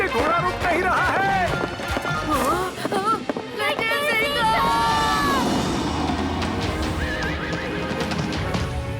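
A horse whinnies loudly several times over rapid hoofbeats, with a crowd shouting and voices calling out in the background.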